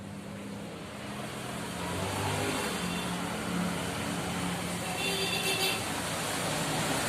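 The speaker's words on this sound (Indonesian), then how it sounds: "lalu bisa kita tekan menggunakan angin ataupun bisa menggunakan mesin kompresor." Compressed air from an air compressor blows steadily through a refrigerator evaporator during cleaning, a continuous broadband hiss and rush heard close and fairly loud, swelling slightly after the start and holding throughout.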